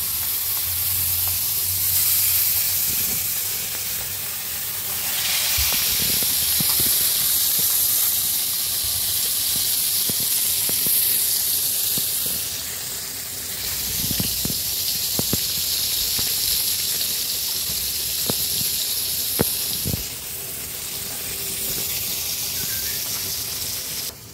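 Fish fries in hot oil in a village kitchen, a loud continuous sizzle and hiss with scattered pops and crackles sustained throughout.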